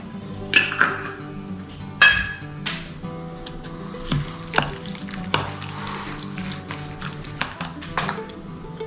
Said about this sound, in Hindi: थोड़ा सा कोकोनट ऑयल में इसको कुक कर लेती हूँ